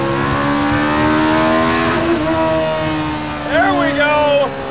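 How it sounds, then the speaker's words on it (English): The high-revving Kawasaki Ninja ZX10R motorcycle engine of a mid-engine Rover Mini screams inside the car cabin, pitch sweeping up and down through gear changes toward 10,000 RPM, loud and continuous. "Adam's mid-engine Kawasaki Ninja ZX10R powered Rover Mini."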